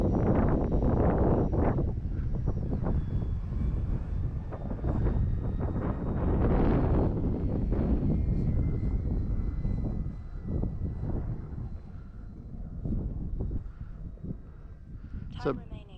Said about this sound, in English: It's a pretty day, but man, is it windy.